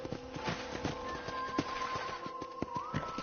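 Horse hooves clop in a steady walking rhythm on a ranch in Red Dead Redemption, with a neigh rising over the footfalls; close and moderately loud, with no talk.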